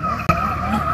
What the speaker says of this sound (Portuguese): Aqui tem os moços aqui que tá fazendo a apresentação de moto